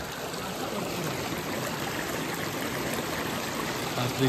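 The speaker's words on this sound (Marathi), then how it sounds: "आणि ही नदी आपल्या गावची रात्रीची" A river near a village in Sangameshwar, Konkan, flowing steadily at night, an even wash of rushing water heard from nearby, with no voices and a small bump near the end.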